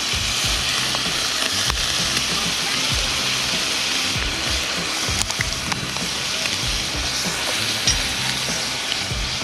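Tomato paste sizzles steadily in a hot pan, a close, continuous crackling fry with occasional stirring scrapes and no talking.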